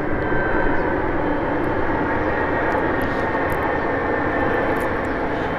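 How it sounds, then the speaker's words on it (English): A fixed-wing airplane flies near the Palm Springs airport, its engine giving a steady, loud broadband roar that holds level throughout, with no talk over it. "So a pretty nice place to go plane watching here."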